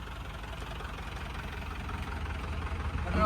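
A modified Willys jeep with a diesel engine idles, a low steady rumble with knocking texture that grows slightly louder toward the end.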